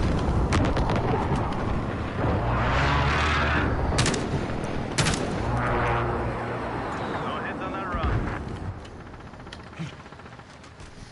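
A precision airstrike in Call of Duty: Warzone, a rolling barrage of heavy explosions and crackling blasts filling the whole stretch, loud and dense, gradually thinning toward the end, with voices talking underneath.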